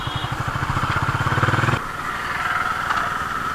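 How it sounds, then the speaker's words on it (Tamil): Exhaust note of a 2021 Honda CB350 H'ness motorcycle fitted with Powerline headers: a steady, pulsing idle-like thump that cuts off abruptly midway, then continues as a smoother, softer engine drone, close and alone. "வண்டியோட எக்ஸாஸ்ட் நோட் கேட்கலாம்."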